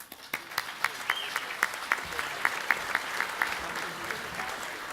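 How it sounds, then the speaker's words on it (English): Audience at an event claps in a warm round of applause, distinct individual claps rising into a fairly quiet, rhythmic patter that continues steadily. "Please give a warm round of applause to Mr. Zuki."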